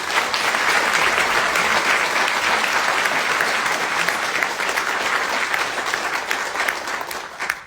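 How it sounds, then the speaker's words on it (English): Sustained, loud applause from a large crowd, steady clapping throughout with no voices rising above it. "If we could give them one more round of applause."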